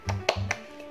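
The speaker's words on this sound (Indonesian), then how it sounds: "Yuk tepuk semangat dulu." A children's spirit clap at an online Sunday school session, a few sharp, close hand claps in quick succession, separated by short gaps, in a small quiet room.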